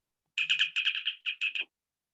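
A mobile phone ringtone chirps in a quick series of bird-like trilling bursts, fairly close and clear, in a quiet room, ending after about a second and a half.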